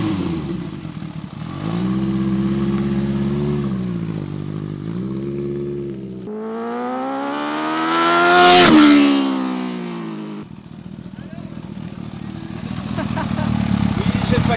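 Kawasaki H2 motorcycle accelerating hard on a road ride, engine note climbing steeply through the revs before easing and settling back to a steady drone, loud and close with wind rush.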